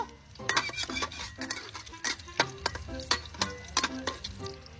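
An egg cooks in a salted pan while a utensil stirs it: a quick, uneven run of close metallic scrapes and clinks over a light sizzle, with no talk.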